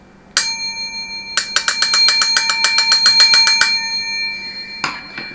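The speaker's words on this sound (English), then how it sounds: "that'd be quite a nice sounding bell" The bell inside a vintage Dutch D8 telephone is tapped: one bright ring, then a rapid series of about a dozen strikes that blur into a ringing trill, followed by a final pair of taps, all loud and close.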